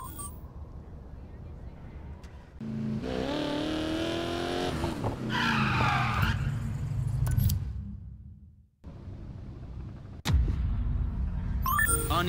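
Cars drag racing up an uneven incline in a residential district in Need for Speed Payback: engines rev and climb through gears with loud tire squeals and skidding, a brief drop to near-silence, then renewed roaring, with voices talking in places.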